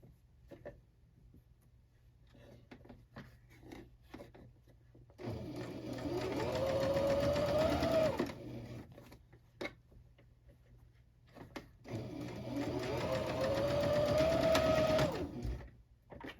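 A sewing machine stitches a dress sleeve in two sustained runs of about three seconds each, separated by quiet handling ticks and clicks.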